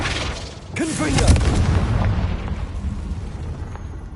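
Confringo spell explosion in Hogwarts Legacy, a sharp blast that swells into a loud rumbling boom with crackling debris, tailing off into a low roar.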